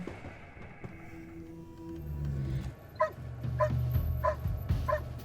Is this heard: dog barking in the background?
yes